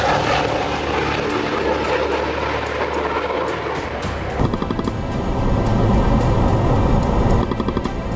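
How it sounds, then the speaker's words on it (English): A Gulfstream II jet makes a high-speed low pass at about 300 knots over El Higuero International Airport, a loud roaring rush that swells and shifts in tone as it passes close by. "Watch as the HI-871 Gulfstream II, belonging to Air Century, makes an adrenaline-pumping low pass at a jaw-dropping 300 knots over El Higuero International Airport."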